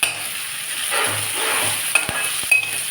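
Potatoes, curry leaves and green chilies sizzle steadily in a hot oiled pan while being stirred for a potato masala rice. A few soft scrapes and clinks of the spoon rise above the even crackle.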